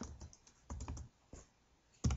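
Code goes into a computer keyboard in short bursts of quiet, close key clicks, with a few irregular clusters of taps, pauses between them and a sharper final keystroke.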